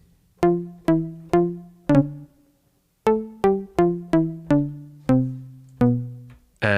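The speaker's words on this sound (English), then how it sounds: "And this is called deep house bass," A Roland MC-303 plays its deep house bass patch an octave higher as a series of short, plucky bass notes, a group of four and then a quicker run of seven, clear and alone with no other sounds.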